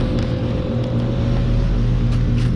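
A 2022 Trane XL16i 5-ton heat pump with a scroll compressor runs in heat mode, giving a steady, loud, close drone and low hum with no pauses.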